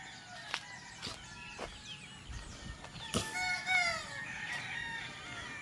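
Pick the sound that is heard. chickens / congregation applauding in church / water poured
chickens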